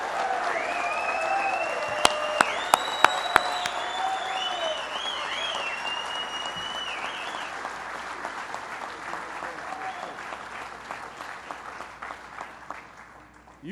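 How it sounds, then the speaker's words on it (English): An audience at a 9/11 memorial event applauds Billy Joel, a sustained wash of clapping with a few sharp nearby claps and whoops early on, slowly fading out. "Let's give him a round of applause."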